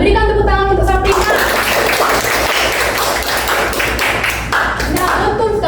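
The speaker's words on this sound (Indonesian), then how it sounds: "Berikan tepuk tangan untuk Sabrina" A classroom of pupils gives a classmate a round of applause, dense steady clapping that carries on for several seconds, with a few voices over it at the start.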